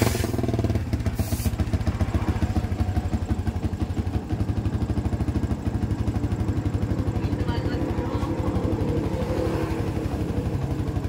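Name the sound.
Yamaha Vixion motorcycle engine running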